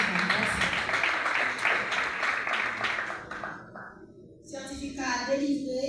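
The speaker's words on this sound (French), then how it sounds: "Sous vos applaudissements, merci." Audience applause at a certificate-awarding ceremony for 102 young people, a broad wash of clapping that fills the first three seconds and then thins out, with voices and talk coming in over the end.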